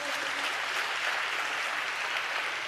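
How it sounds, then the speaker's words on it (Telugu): A congregation claps together during a Telugu Christian sermon on endurance through suffering, a dense, steady wash of many hands that holds even throughout, with no voices standing out. "చప్పట్లు కొడుతూ స్తోత్రాలు చెప్దాం."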